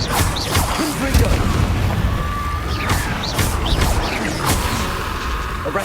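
Confringo fire spell blasts in Hogwarts Legacy: a loud, busy run of booms, crashes and whooshing impacts, several sharp hits spread over a few seconds, with some combat noise mixed in.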